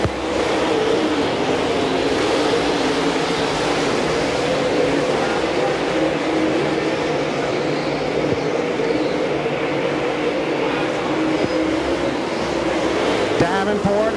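Dirt track race cars roar around Volunteer Speedway during the 12th Annual Scorcher, a loud continuous engine drone with rising and falling revs, while an announcer calls the race over the top.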